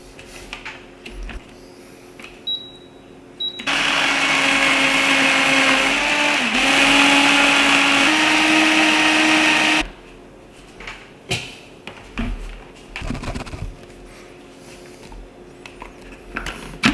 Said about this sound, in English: So I just throw them all in the blender, and yeah, we'll blend it up